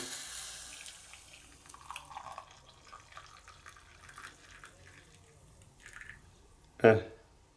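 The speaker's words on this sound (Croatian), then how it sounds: "Evo, voda je provrela. Sad ću da sipam ovdje preko cvetova zove." Freshly boiled water is poured over elderflowers to steep a tea, giving a soft trickling, dripping stream. A sharp clunk of the vessel follows near the end.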